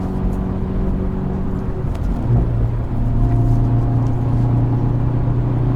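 Hyundai Veloster N driving at high speed in M mode, a steady in-cabin engine and road drone with a shift in tone around two seconds, continuous and loud, no talk.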